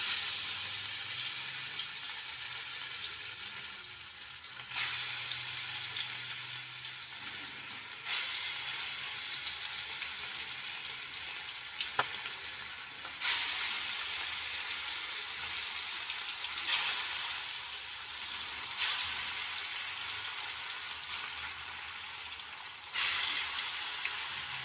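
Whole fish seasoned with salt and turmeric fries in a pan of oil, giving a steady, moderately loud hiss that swells and eases in waves as the oil is swirled, with no talking.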